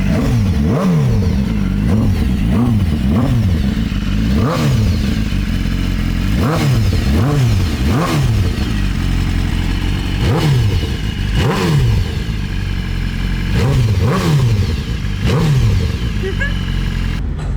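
A BMW S1000RR superbike at its delivery is revved hard again and again, each loud, close rev climbing and dropping back in a quick rhythmic series over a constant idle rumble.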